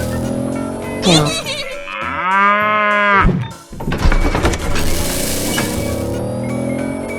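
A cow moos in a 3D animal video game: one drawn-out, harmonic low call in the middle, set among busy game music and effects.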